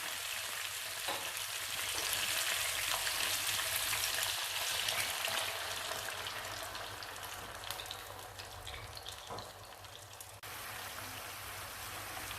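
Chicken sizzles in a pan after wine is poured in, a steady crackling hiss with faint pops and stirring, gradually settling a little softer.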